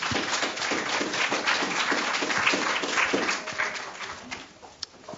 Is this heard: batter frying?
no